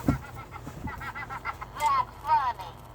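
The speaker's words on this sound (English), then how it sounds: "That is Tickle Me Big Bird." A Tickle Me Big Bird plush toy giving off its electronic voice, a few short warbling, bird-like squawks with chirpy rising tones, close and clear.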